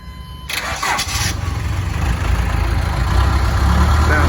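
Case backhoe diesel engine cranking briefly and catching, then settling into a loud, steady rumbling idle that grows slightly heavier, recorded close outdoors.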